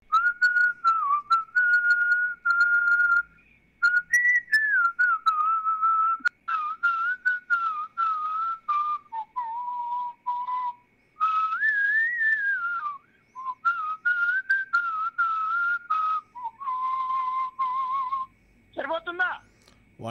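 Whistled rendition of a Telugu song, played over a phone line on a radio show: a close, clear solo melody in steady, sustained phrases with short breaths between lines, ending in a brief rising flourish.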